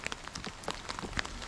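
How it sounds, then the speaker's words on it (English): Rain falls on a morning along the Portuguese Camino path near Orbenlle and Mos, a faint steady patter of drops on surfaces with scattered sharper ticks. "As you say, it's raining again."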